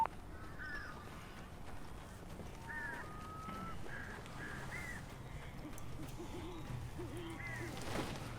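Crows cawing in Alan Wake, several harsh calls scattered over a low outdoor ambience, fairly faint and intermittent with no one talking.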